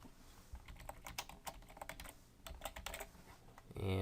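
Rapid typing on a computer keyboard while filling out a web form, a close, uneven run of crisp key clicks with short pauses, ending with a louder thump.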